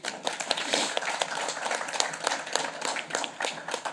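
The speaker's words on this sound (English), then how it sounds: "And I think you should be clapped for that." Audience at a UWI St. Augustine campus council meeting applauding, a steady patter of many hands clapping in a room, continuous and moderately loud.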